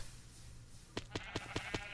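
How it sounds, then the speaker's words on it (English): Sheep bleat in Minecraft as they spawn rapidly from a redstone clock, five short repeated bleats in quick succession over a faint steady background hum. "This is a much faster clock because sheep are just raining down at this point."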